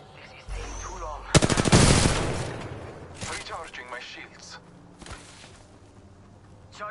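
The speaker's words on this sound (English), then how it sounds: "Listen up, I'm getting shot at." Automatic gunfire in an online arena shooter video game: a loud, rapid burst of shots close by, then scattered quieter shots and clatter trailing off.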